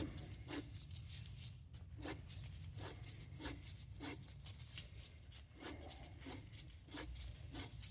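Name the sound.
used Fram oil filter being cut open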